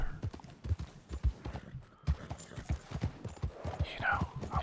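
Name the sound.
horse hooves clip-clopping in a video game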